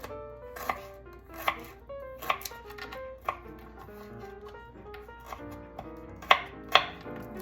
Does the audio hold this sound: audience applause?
no